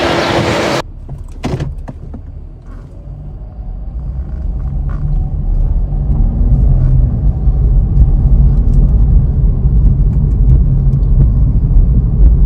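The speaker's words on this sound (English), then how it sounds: "hop in the car, load up the equipment, and drive out there while we record the drive" A car door thuds shut, then the vehicle pulls away and drives out of downtown San Angelo, Texas, with a steady low road and engine rumble growing slightly louder and persisting to the end.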